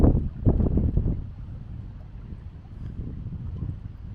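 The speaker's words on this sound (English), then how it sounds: "Right now the wind is kind of pushing me" Wind buffets the microphone while kayaking on open water, heavy gusty rumbling at first that eases into a softer, steadier blowing, with no talk.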